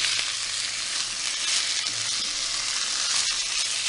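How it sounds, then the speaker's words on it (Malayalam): Chicken pieces sizzling and frying in a pan while being stirred for a North Indian achari chicken dish, a steady dense crackle with occasional scrape of the spoon, close and continuous with no talk. "നമുക്കിതിലേക്ക് ചിക്കൻ ചേർത്ത് കൊടുക്കാം. നന്നായിട്ട് ഇളക്കി കൊടുക്കാം."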